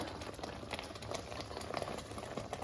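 Onion paste frying in oil for a fish curry, a steady dense bubbling sizzle with crackly spits, continuous and close throughout, no voices.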